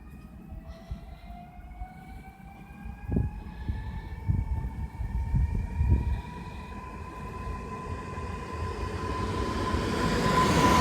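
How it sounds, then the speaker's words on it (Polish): A Regio passenger train pulls away from Białuń station, its rumble and rising electric whine building steadily, with clunks of wheels over rail joints; no speech. "Odjeżdża pociąg Regio relacji Szczecin Główny Świnoujście."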